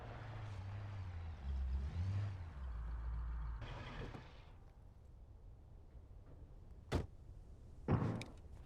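In the video game Alan Wake, a truck rumbles past at a moderate distance, its low engine drone swelling and fading. A couple of sharp metallic clanks follow.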